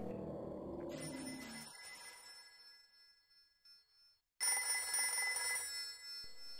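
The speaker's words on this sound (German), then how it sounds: "Das ist ein Telefon!" A telephone rings in the survival horror game Haunting Ground: a bright electronic ringing that starts after a quiet stretch and carries on loud and steady, with no talk over it.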